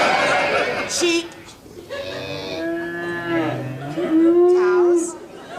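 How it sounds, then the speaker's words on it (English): Cows moo several times in long, drawn-out calls on a countryside sounds record, some lowing deep and others rising higher, close and fairly loud. "Cows."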